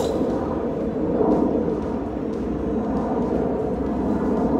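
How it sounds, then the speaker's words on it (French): Airplanes passing overhead above a frozen golf practice range in Luxembourg, a steady distant jet rumble and roar sustained throughout, with no talk. "il y a des avions qui passent là"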